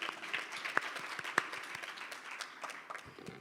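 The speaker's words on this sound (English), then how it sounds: "So please, a round of applause for yourselves." A conference audience applauds with scattered, moderately loud clapping that holds steady for a few seconds before thinning out.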